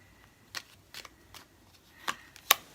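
Tarot cards being shuffled and drawn, a few sparse, quiet papery flicks and snaps spaced irregularly over a faint background, with no talking.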